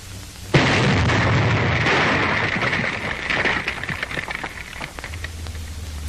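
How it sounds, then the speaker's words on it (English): A demolition blast clearing an enemy roadblock during wartime port repair: a sudden loud boom sets off a long, rumbling roar that holds for several seconds, then breaks into scattered crackles and falling debris as it fades. "Roadblocks set up by the enemy have to be blown out"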